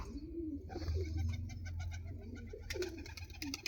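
Domestic pigeons in a pigeon house coo close by in soft, low, repeated calls. Scattered clicks and light chirps join them toward the end, and no one talks.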